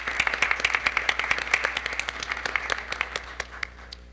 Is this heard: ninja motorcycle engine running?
no